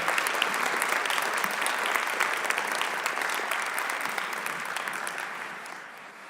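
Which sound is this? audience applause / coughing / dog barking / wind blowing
audience applause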